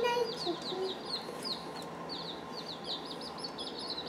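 Baby chicks, red sex-links and white leghorns, peeping in a brooder box, a steady busy chorus of high chirps close to the microphone.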